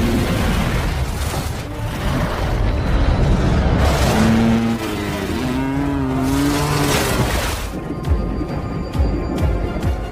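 Motorcycle chase in the action film xXx: Return of Xander Cage: loud engine revving and roaring, passing vehicles and impacts, layered with dramatic film score throughout.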